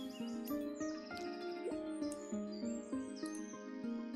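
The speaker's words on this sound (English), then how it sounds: "Here's our sparrow. Little baby sparrow." Sparrow in the video game Equilinox chirping in quick, bright repeated tweets, close and clear over a continuous musical background, with no voices.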